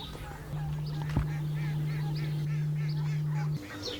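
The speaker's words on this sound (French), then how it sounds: "Mais on continue, nous, d'entendre ces canards." Several ducks quacking and honking in short bursts, fairly close, over the steady low hum of a heat pump that stops near the end.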